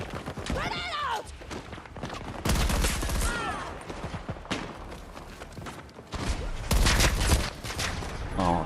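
Rapid video game gunfire in bursts and sustained sprays, loud and dense, with explosive thumps mixed in and someone talking over parts of it.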